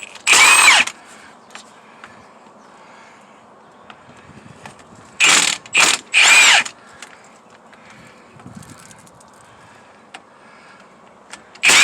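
A tool with a half-inch socket works on the axle bolts of a 1969 Pontiac in three short, loud, whirring bursts, one near the start and two close together midway, separated by quiet stretches.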